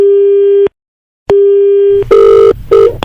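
A steady telephone tone pulses on and off in long beeps after a hang-up, then a louder harsher busy signal beeps twice, close and clear, with no talking.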